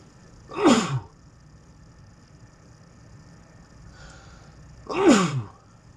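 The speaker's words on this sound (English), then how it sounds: "Didn't mean to sneeze in your ear." Two sharp sneezes, each a sudden loud burst, spaced about four seconds apart in an otherwise quiet room.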